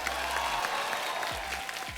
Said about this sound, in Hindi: पहले तो इसके लिए तालियां हो जाएं।